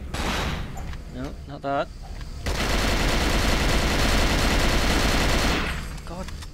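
A burst of rapid gunshots in Cold Fear as objects are shot open, a loud dense fusillade lasting several seconds, with voices talking before and around it.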